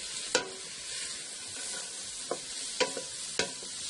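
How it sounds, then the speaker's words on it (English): Garlic and carrots sautéing in a pan for a vegan lasagna, a steady soft sizzle broken by a few sharp spoon-stir clicks against the pan, close and moderately quiet. "I'm going to cook this for about 8 to 10 minutes or until you can really smell that garlic."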